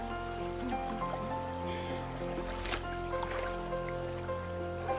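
A river flowing along its bank in hot weather, a steady broadband rush of moving water close by, with a constant low hum beneath and no talk.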